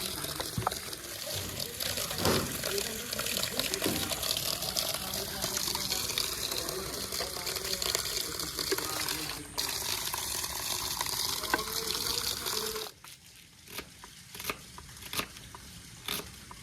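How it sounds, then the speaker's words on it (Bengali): Tap water gushes steadily over raw meat being rinsed in a bowl, a continuous splashing stream that cuts off near the end, leaving quieter clatter behind. "আমি এতে মাংস ধুই"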